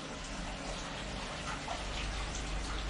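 Water gushes steadily from a hose into a hydroponic NFT channel on a balcony, a continuous hissing splash that stays even and close for the whole stretch.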